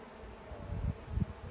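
Low, steady buzzing of many honey bees at close range in a small nucleus hive, swelling in a couple of brief louder pulses.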